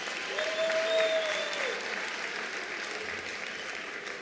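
Sustained audience applause at the official 2024 announcement of national senior certificate examination results, a dense wash of many hands clapping at steady volume for about four seconds, with a brief tonal whistle-like note early on.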